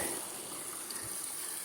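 A small waterfall in a hillside stream pours with a faint, steady hiss of rushing water, a continuous soft wash with no other sounds over it.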